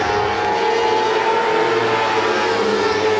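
Classic Lites race cars lapping Star Speedway during a feature event, a steady loud engine drone holding a sustained pitch throughout, with crowd-level ambience and no voices.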